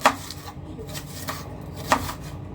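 A knife slices an onion lengthwise into strips on a board, giving a series of crisp, irregular cutting taps close by over a soft background.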